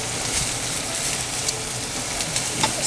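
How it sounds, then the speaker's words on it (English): Garlic and white onion sizzling and frying steadily in a pan, a continuous close crackle and hiss with small pops throughout and no talk. "Got our garlic going. Just gonna add white onion."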